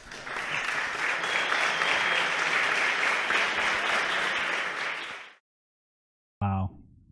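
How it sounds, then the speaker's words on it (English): A crowd at the FIDE Candidates 2022 chess tournament venue applauds in a dense, steady burst of clapping for about five seconds before cutting off abruptly; a brief voice follows after a short silence. "it's so nice to see the fans applaud you live in person"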